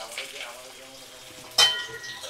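Shrimp and onions fry in a pan with a soft, steady sizzle, broken by one sharp metallic clink of utensil on pan partway through.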